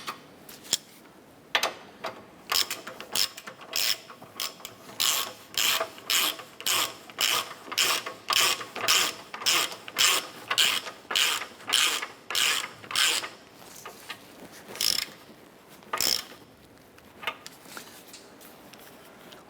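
A hand ratchet clicks in long, steady rhythmic strokes while tightening the lower ball joint nut on a 2008-2012 Honda Accord during wheel bearing replacement, close and crisp, with a few pauses between runs of clicks and no talk.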